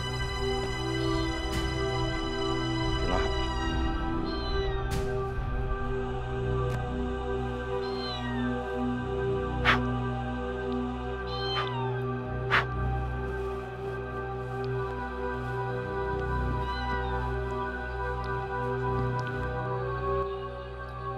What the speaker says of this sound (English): Why am I continuously hearing the sound of cat?